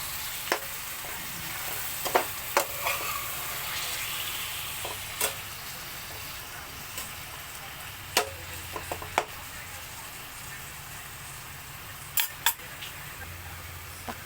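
Chicken pieces sizzle softly in a pan for a home-cooked chicken estofado with tomatoes, under a steady low frying hiss. Scattered clicks and taps of a utensil stir now and then.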